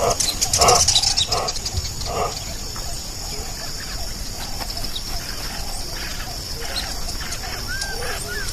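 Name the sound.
monkeys screaming alarm calls across the savanna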